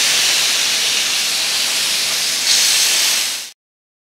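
Chicken shawarma sizzles in a pan over a medium flame, a loud, steady hiss that swells slightly before cutting off abruptly.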